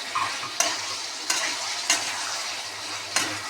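Paneer, potol and green chilli frying in a pan, a steady close sizzle broken by four sharp stirring scrapes at regular intervals, no one speaking.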